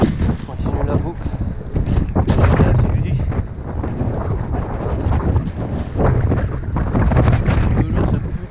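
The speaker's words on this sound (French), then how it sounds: "Toujours ce putain de vent." Strong wind buffets a cyclist riding a gravel loop along the Seine near Sartrouville and Bezons, a loud, roaring, gusting rumble that surges and eases throughout, with a voice briefly heard under it.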